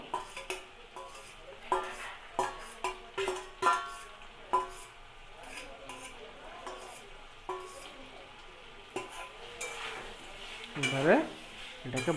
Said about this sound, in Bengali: পটল আলু আর গোবিন্দভোগ চালের যে মিক্সটা করা ছিল যেটা আমরা বানিয়ে রেখেছিলাম সেটা ঢেলে দেওয়া হলো